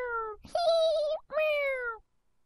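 A kitten meows two or three times in quick succession, clear and close, with a rising then falling cry, followed by silence.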